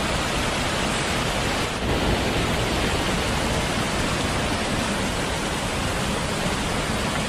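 Devkund waterfall in Odisha during monsoon, water crashing down in a loud, unbroken roar heard close up with no pauses.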